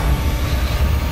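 Nitrous boost roaring in the Need for Speed Underground 2 racing game, a loud continuous low rushing engine-and-wind drone that holds steady throughout.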